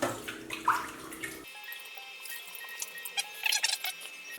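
Running tap water rinses an item, a soft trickling and splashing stream at close range, cutting out sharply partway and followed by faint drips and light squeaks before water briefly picks up again.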